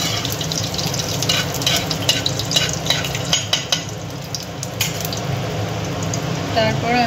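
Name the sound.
dry chilli, bay leaf, five-spice stirred in hot mustard oil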